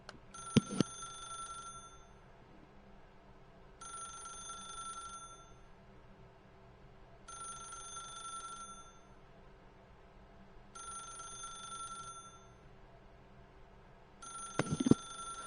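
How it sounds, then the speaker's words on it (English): In the video game The Stanley Parable, a telephone bell rings in steady bursts about every three and a half seconds, fairly faint, with a couple of sharp knocks at the start and end. "The phone's still going on."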